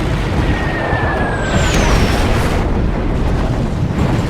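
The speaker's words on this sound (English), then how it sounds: "A single 500-pound bomb hits the destroyer, jamming the rudder 26 degrees to port" A 500-pound bomb from a Val dive bomber striking an Allen M. Sumner class destroyer in World of Warships, a loud, sustained rumbling blast with whistling tones sliding across it, dense and close throughout.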